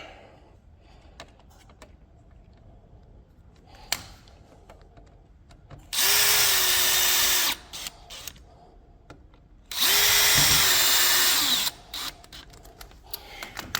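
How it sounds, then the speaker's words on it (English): Two loud, sustained bursts of a power drill driving screws into a window tilt latch lock, each lasting about two seconds, with quiet handling clicks and taps before, between and after them. "Last thing you got to do is put your lock on, which is very simple. 2 screws."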